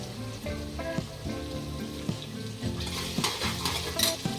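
Curry leaves and tomato roasting in hot oil for a rustic vajri masala, sizzling and spattering loudly under steady stirring with scraping and clicking of a spoon against the pan, close up, without talk.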